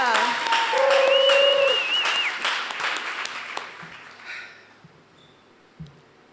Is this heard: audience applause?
yes